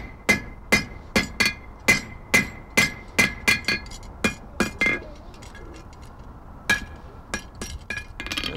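A blacksmith at a museum demonstration strikes metal on an anvil, a bright ringing clang repeated in a steady rhythm about a dozen times, then a pause before a few scattered lighter taps close by.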